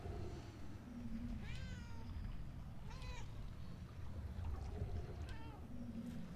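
Cat meowing in the video game Murdered: Soul Suspect, three or four rising-falling meows spaced a second or so apart over a thick, steady low rumble of game ambience, no talking.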